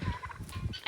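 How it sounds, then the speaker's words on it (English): An Isbar rooster calls up close on a small farm, a short burst of throaty clucking and gobbling notes, loud and alone. "This is my one and only Isbar rooster."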